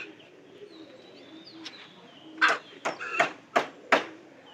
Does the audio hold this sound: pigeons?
yes